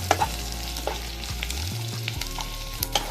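Garlic fries in a pan with a steady crackling sizzle, punctuated by scattered sharp pops and a few spoon scrapes, close and alone without any voices.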